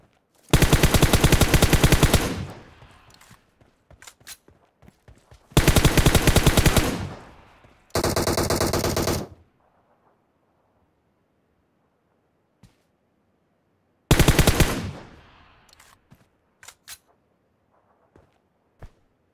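Machine gun fire in the mobile game PUBG Mobile comes as several loud sustained automatic bursts, separated by long near-silent gaps with a few faint isolated clicks.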